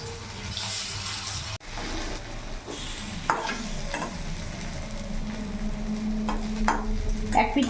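Masoor dal pakoras fry in hot oil with a steady, close crackle and bubbling sizzle that swells and eases over several seconds, broken by a few sharp clinks and stirring scrapes, with no one talking.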